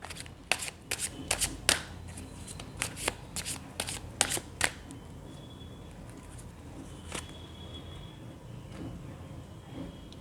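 Tarot cards being shuffled and drawn, a quick run of crisp riffling snaps and flicks, close and fairly quiet, fading into softer handling of the deck.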